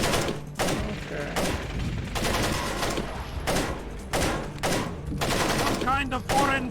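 Rapid bursts of gunfire from the video game Tom Clancy's Splinter Cell, loud and repeated in clusters, with a constant rumbling background and some faint voice-like sounds mixed in.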